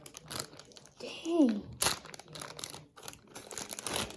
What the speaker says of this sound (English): So it comes in a plastic bag.